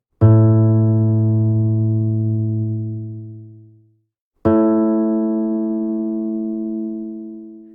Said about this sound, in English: It sounds thinner, not as rich and full, but it still sounds like the same note, despite the missing fundamental.